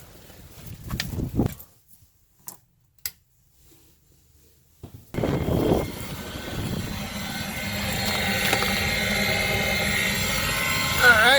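An Aquahot RV hydronic boiler starts up after a few quiet clicks, settling into a loud, steady mechanical roar and whir that builds slightly and continues throughout.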